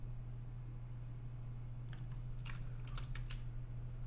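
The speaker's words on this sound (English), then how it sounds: "now let's just click next" A computer mouse or keyboard gives a few quick, faint clicks over a steady low electrical hum in a quiet room.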